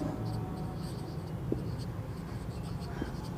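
Steady scratching strokes of writing on a board during a class eight maths lecture on proper subsets, close and continuous with a couple of sharper taps.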